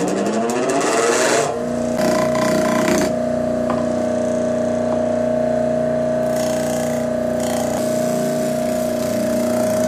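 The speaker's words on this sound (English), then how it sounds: "I'm just going to sand the corners to give them a little round to fit into the" Power sander rounding the corners of a wooden insert for a flush-mount router table; a loud, steady motor hum with a strong tonal whine runs throughout, with brief rougher bursts as the wood is worked.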